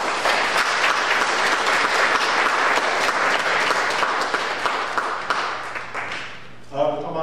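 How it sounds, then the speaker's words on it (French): A church congregation on Palm Sunday applauds in a long, full burst of many hands that fills the room, then thins out and fades near the end as a few other sounds come in. "J'aimerais qu'on applaudisse toutes ces personnes."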